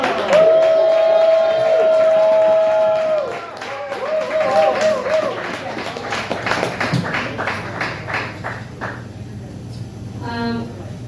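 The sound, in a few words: audience applause for a comedian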